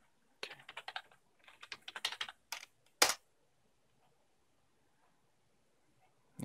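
Quick bursts of keystrokes on a computer keyboard attached to a freshly booted 2015 Haswell custom-built PC, clattering unevenly for about two seconds, then a single sharp click followed by near silence.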